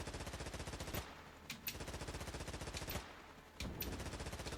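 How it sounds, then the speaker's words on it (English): A light destroyer's machine gun in a naval warship video game fires in continuous rapid bursts with brief pauses between them, loud and dense, with no voices over it. "this machine gun is pretty bad"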